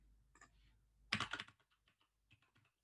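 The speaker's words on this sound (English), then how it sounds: "I'm just going to type it." A short, quiet burst of typing on a computer keyboard, with a few scattered clicks followed by a quick cluster of keystrokes and then lighter taps.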